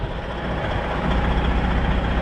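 An older Freightliner semi tractor running close by, a steady loud diesel rumble and broadband engine roar without pauses.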